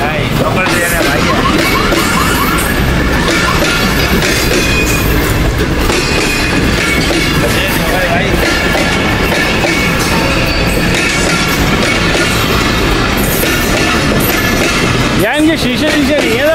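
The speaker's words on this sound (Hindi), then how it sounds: "नहीं लोकल ट्रेन है, लोकल।" A local passenger train rumbles loudly and continuously, with rattling wheels and clattering carriages throughout. People talk over the noise, and a sharp squeal rises near the end.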